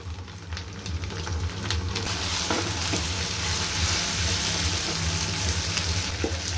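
Steady sizzling of finely chopped tomatoes and ginger-garlic paste frying in a hot pan, with occasional stirring scrapes and pops, close and continuous, no voices.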